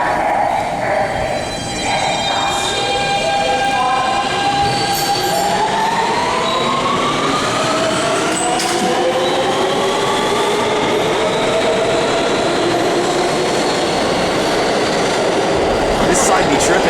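A New York City subway train runs steadily throughout, a constant loud rumble with rising and falling whining tones from the motors and a few faint clanks, with no talk heard.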